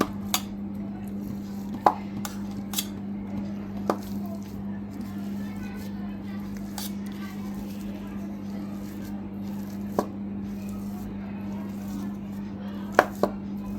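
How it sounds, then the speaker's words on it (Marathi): Boiled potatoes are mashed in a bowl for spicy katvada, giving sparse soft squishy presses and a few sharp taps against the vessel over a constant low hum, with no talk. "हे जे बटाटे आहेत ते स्मॅश करून घेऊयात"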